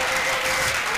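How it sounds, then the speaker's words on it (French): A church congregation at a salvation and healing crusade in Bafoussam applauds, a dense, continuous wash of clapping from many hands filling a brief moment with no break. "Clap for Jesus."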